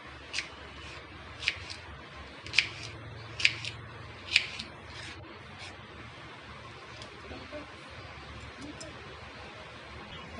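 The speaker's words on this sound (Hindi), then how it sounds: "हमने सारी भिंडियों को इसी तरह से काट लिया है।" Okra (bhindi) being sliced on a cutting board in a home kitchen, giving a handful of crisp, distinct knife-cut ticks early on, then quieter faint cutting under low room noise.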